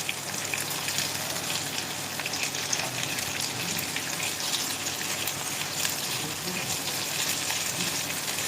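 Cauliflower florets for Manchurian frying lightly in a pan, a steady dense crackling sizzle that holds at an even level throughout without any pauses.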